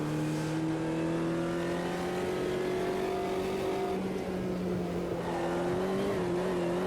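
Race car engine in the Automobilista 2 racing sim, holding a loud steady drone with rising pitch as it accelerates, a brief dip near the middle, then climbing again, continuous and close with no talk.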